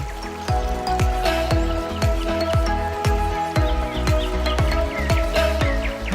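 Water in a resort garden drips and trickles in a regular, evenly paced series of close, distinct plops over a faint steady wash, with no talk.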